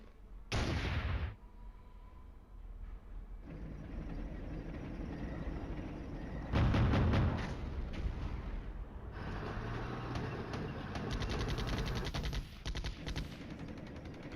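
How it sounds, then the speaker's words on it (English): Artillery fire in the wargame Flashpoint Campaigns: Red Storm, with a sharp loud boom at the start, then a steady rumbling barrage and another heavy burst midway, continuous and dense with no talking. "All right, some more artillery."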